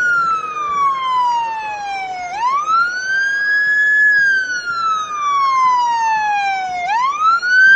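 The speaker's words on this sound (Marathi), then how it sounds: "ऑस्ट्रिया या देशातून हे आयात केलेलं वाहन आहे आणि उत्तुंग इमारतींच्या अग्निशमन आणि विमोचनाचं कार्य हे वाहन करत असतं" A fire brigade high-rise rescue vehicle imported from Austria sounds its siren in a parade at Shivaji Park, Dadar, Mumbai, a loud close wail that sweeps slowly down and up in long repeating cycles.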